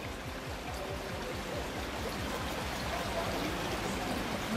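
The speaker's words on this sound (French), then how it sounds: "La petite rivière, Ouais. le son de l'eau, j'aime ça, ce petit son." A small river runs beside a rock formation near Safranbolu, Turkey, its water flowing in a steady, close, broadband wash with a soft rumble and no pauses.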